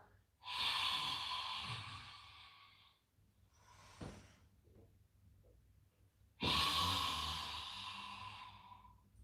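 Deep breathing during a yoga class: a long, loud breath, then a short quieter breath, then another long full breath, all close and with no talk over them.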